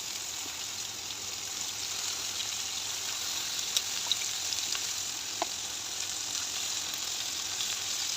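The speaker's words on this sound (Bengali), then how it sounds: "কই তেল দিয়ে কই ভাজা নাকি?" Koi fish frying in oil in a home kitchen, a steady close sizzle with a few sharp pops and crackles, no talking.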